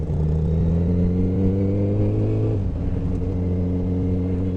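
The engine and exhaust of a Honda CBR 1000RR SP motorcycle run with a loud, steady droning rumble, the pitch dropping slightly partway through as the revs ease.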